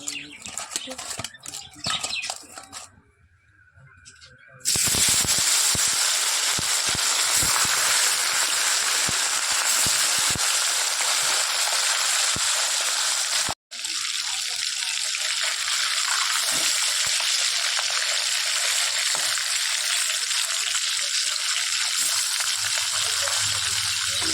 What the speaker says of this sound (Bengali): মাছে হলুদ নুন মাখিয়ে নিয়েছি তেলও গরম হয়ে গেছে চলো মাছগুলো এবার দিয়ে দিই